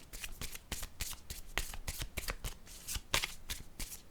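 Tarot cards shuffled by hand up close, a quick series of crisp riffling slaps and flutters repeating in an uneven rhythm, with no talk over them.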